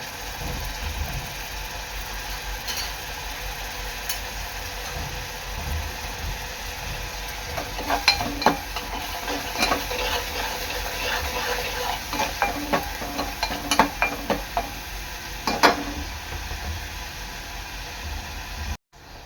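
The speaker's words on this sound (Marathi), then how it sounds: "आपलं वाटण आहे ना तेलामध्ये चांगलं परतून घ्यायचं आहे।" Ground masala paste sizzles steadily in hot oil for a sour Agri Koli fish curry, with irregular scraping and stirring clicks from a utensil in the pan that grow busier midway. The sound is close and there is no talk.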